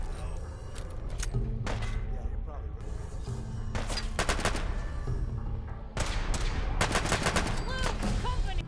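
Rapid gunfire from a .22 pistol in Fallout 4, loud bursts of sharp shots in clusters over a dense layer of game music and combat noise, with voices mixed in.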